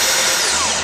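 A power drill drives screws into a cabinet door installation jig, a loud, steady whirring burst up close with no talk.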